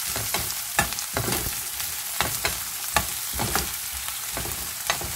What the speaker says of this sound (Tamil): வெங்காயத்தை வதக்கி விடுங்க.